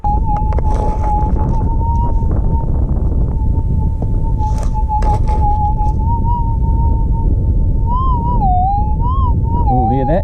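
A gold-prospecting metal detector out in the bush near Meekatharra, Western Australia, holds a steady high threshold tone for several seconds, then the pitch begins to warble and wobble as it passes over a gold target.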